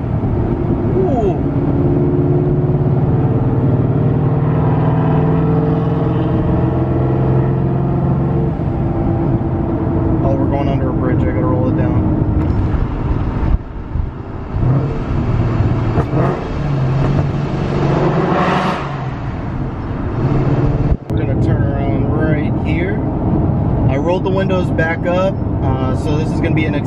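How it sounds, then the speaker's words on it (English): Boosted 5.0 Coyote-swapped car accelerating with the windows up: a loud, steady engine drone and whine heard from inside the cabin, with talk over it. "So this is gonna be an acceleration with the windows up."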